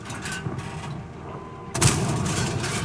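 A single heavy cannon blast from an FV217 Badger tank destroyer firing APCR rounds in World of Tanks: a sudden loud boom with a lingering rumbling tail over steady battle ambience.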